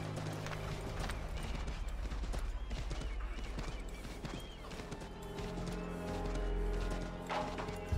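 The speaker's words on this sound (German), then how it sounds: "Das Pferd nur ein bisschen schneller werden, ne?" A horse gallops in Assassin's Creed 3 with a steady rapid clip-clop of hooves, loud and close, over continuous game music and ambient noise, with a brief whinny-like accent amid the running hoofbeats.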